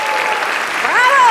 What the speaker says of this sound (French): Veuillez accueillir à grands coups d'applaudissements le Ballet Junior de Genève.